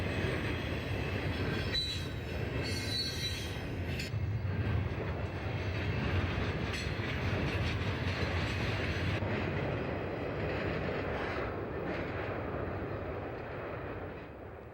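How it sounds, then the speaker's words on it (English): A train rolls onto the Mississippi River Bridge carrying the rails into Illinois, a loud continuous rumble of wheels on track with high metallic squeals, slowly fading toward the end. "the train heads on to the Mississippi River Bridge that carries the rails into Illinois."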